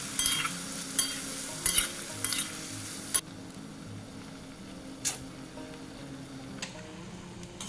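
Poppy seed and green chilli paste fries in a pan while a spoon stirs it, giving a close sizzle with irregular scraping knocks that grow sparse after the first few seconds, leaving a softer hiss with occasional taps.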